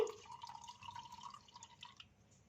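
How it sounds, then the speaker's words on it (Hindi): Rice-washing water poured off slowly from a bowl of soaked rice in a kitchen, a faint continuous trickle and drip close by, no talking. "इस पानी को आहिस्ते से इस तरह से नथार लेंगे।"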